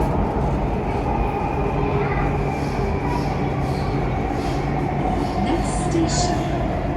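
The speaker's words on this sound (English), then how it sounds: "waiting for the next train to the airport, which is due in a couple of minutes" Chennai Metro's Central station platform gives off a continuous, fairly loud rumble of train and station noise, with a steady hum and faint indistinct voices in the background.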